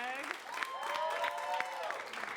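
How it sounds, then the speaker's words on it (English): An audience at an improv comedy show claps steadily while someone speaks over the applause. "So let's start that applause"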